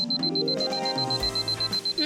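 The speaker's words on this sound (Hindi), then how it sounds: "उसे अलार्म की आवाज सुनाई नहीं देती" A pink alarm clock rings loud and close with a rapid, repeating electronic chime melody that pulses in short bursts without pause.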